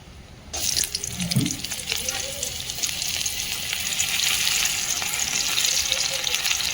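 Chopped garlic and onion sizzle and spit steadily in a hot pan, a close, continuous frying hiss with faint clinks and a brief watery splash at the start.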